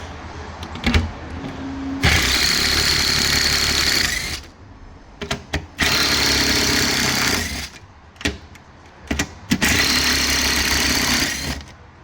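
A power tool whirs in three bursts of about two seconds each, loud and close, removing 8 millimeter nuts from a Polestar 3 EV battery pack during a teardown. Short clicks and clatter fall between the bursts.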